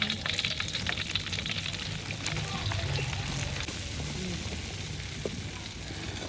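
Ghee heats in a pan for panjiri, giving a steady, close sizzle and crackle of hot fat that runs evenly throughout with faint stirring noises.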